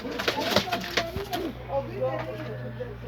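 Pigeons coo in short low throaty phrases at a shantytown rooftop coop, with people talking over them close by.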